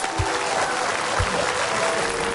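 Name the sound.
applause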